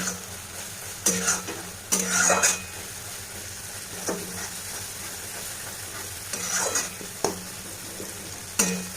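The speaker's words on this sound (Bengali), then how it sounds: "তো এই জন্য আমি পুরো ভেজে নিচ্ছি ভালো করে।" Ginger frying in a pan for a potato and chana dal curry, with bursts of stirring scrapes over a steady low sizzle, close and moderately loud, with no talking.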